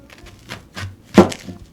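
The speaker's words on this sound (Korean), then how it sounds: "그리고 이제 나머지 야채를 썰어 볼게요" Vegetables cut with a knife for burdock japchae give a few soft, irregular chops on a board, one a little louder thunk, heard close and with no talking.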